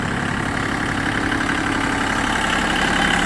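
An Iseki Land Leader 227 (TA227) mini tractor idling steadily, a constant loud mechanical drone with an even rumble and no speech.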